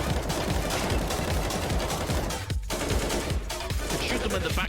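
Rapid gunfire from a Counter-Strike match, dense bursts of shots crackling almost nonstop at close range, with a short gap midway before the firing resumes.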